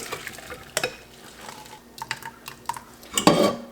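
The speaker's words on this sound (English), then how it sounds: "So now I'm going to drain this rice here" Cooked rice for chicken biryani tipped into a strainer to drain, with metal pot clanks, scraping and a splashing pour of water near the end; close, intermittent kitchen clatter with no talking.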